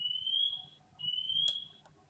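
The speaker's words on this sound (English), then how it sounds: "I'm sorry if you can hear this alarm is going off again." A smoke alarm beeps twice in long, loud high-pitched tones, each about three quarters of a second, with a short gap between them, over a faint low background hum.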